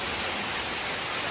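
A Kentucky waterfall gives a steady, broadband rush of falling water, close and continuous for the whole moment, with no voices.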